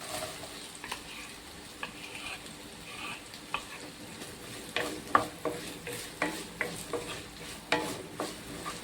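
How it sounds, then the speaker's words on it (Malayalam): Green chillies and sliced onion frying in hot oil, a steady soft sizzle with repeated scraping stirs that grow louder and more rhythmic in the second half; no talking. "ഓയിലൊക്കെ ചൂടായി വന്നിട്ടുണ്ട് ഇതിലേക്ക് നമ്മൾക്ക് ആദ്യം പച്ചമുളക് ഇട്ട് കൊടുക്കാം പിന്നെ സവാള കൂടി ഇടാം"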